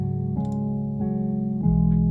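A melody beat slowed with a half-speed effect, giving deep, drawn-out synth notes that slide downward in pitch at each change, three or four sustained steps, moderately loud with no voices.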